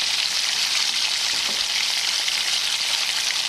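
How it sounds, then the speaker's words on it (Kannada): A pan of vegetable pulao mixture cooks on the stove with a constant, close bubbling sizzle that holds steady throughout, with no voices. "ನೋಡಿ ಚೆನ್ನಾಗಿ ಕುದೀತಾ ಇದೆ ಆಲ್ರೆಡಿ."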